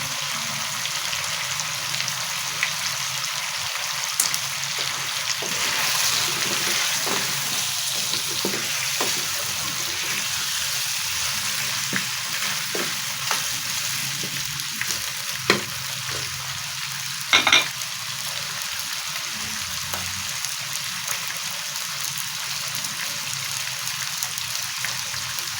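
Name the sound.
onions frying in a pan for fish head curry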